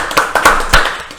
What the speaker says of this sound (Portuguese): Uma salva de palmas para o nosso prêmio Somos!